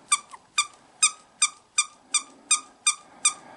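A small plush raccoon dog toy squeaks nine times in a steady rhythm, each a sharp, bright, close squeak with no talking.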